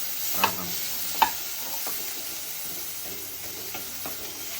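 Chopped onion roasts a little at a time in oil in a pan, giving a soft, steady sizzle with a few sharp scrapes and clinks of stirring, close and fairly quiet, with no talking.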